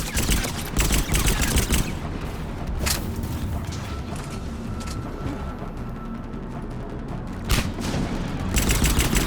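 Dense gunfire in the video game Mass Effect 3: loud rapid automatic bursts and overlapping shots under a constant battle din, with short pauses and renewed heavy firing toward the end.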